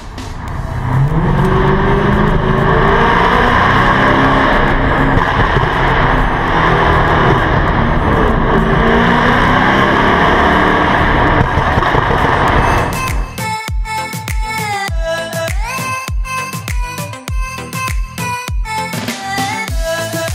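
A car travels a Croatian road with a steady, loud roar of engine and tires for about thirteen seconds, then music takes over.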